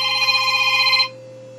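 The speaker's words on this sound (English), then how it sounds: "And it's my lovely wife Sandy calling in from Fond du Lac" A telephone rings with an incoming call, a single steady electronic ring lasting about a second before cutting off into quiet room hiss. The ring is loud and close, with no talking.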